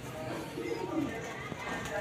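Home-bred flying pigeons and their young give soft throaty coos, faint and close, while someone talks over them.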